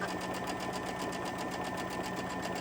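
A sewing machine steadily stitches quilting fabric, its needle pumping in a fast even rhythm with a constant motor hum, close and fairly quiet, no talking over it.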